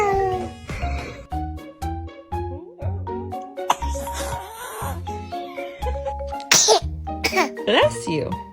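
A baby lets out a few sneezes up close amid a busy mix of tinkling toy music, whiny vocal sounds and adult speech.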